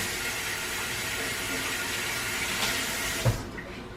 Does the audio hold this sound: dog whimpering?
no